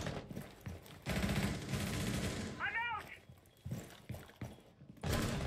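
Gunfire in Rainbow Six Siege during a college esports match: scattered shots and bursts ring out under commentator speech, with a brief high chirping effect in the middle.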